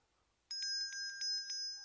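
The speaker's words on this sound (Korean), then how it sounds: "제가 여기 이렇게 아름다운 소리 나는 벨을 갖고 있어요." A small bell with a bright, ringing tone is struck several times in an uneven rhythm, each strike sustaining a clear shimmering note, close and loud in a quiet church setting.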